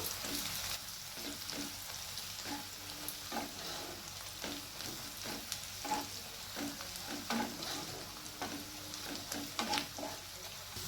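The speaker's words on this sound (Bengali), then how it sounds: "আবার একটু লাল করে ভেজে নেবো" Onions fry in a pan toward reddish brown, a soft continuous sizzle under repeated close scraping strokes of a spoon at an uneven rhythm, with no voices.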